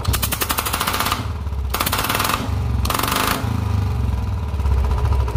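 A motorcycle engine with a manual decompressor and an air leak, its exhaust backfiring flames, gives loud rapid popping bursts in a machine-gun rhythm over a steady low engine rumble, close by.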